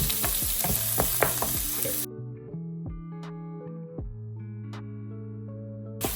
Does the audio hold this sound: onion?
yes